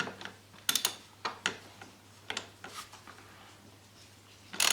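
Ratchet on a long extension with a 32mm socket clicking as it works the oil filter loose on an Audi A4 B8, a few sharp close clicks and metallic taps in short irregular bursts.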